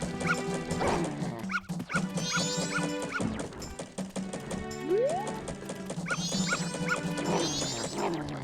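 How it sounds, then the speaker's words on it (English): A dog in The Legend of Zelda: Majora's Mask yips, barks and whimpers repeatedly close by over looping game music and chiming effects. "I got this dog bugging the shit out of me too"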